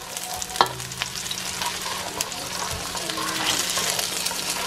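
A wok sizzles over high heat as it is stirred and swirled while being seasoned, giving a steady close frying hiss with occasional sharp scrapes and clanks of the pan.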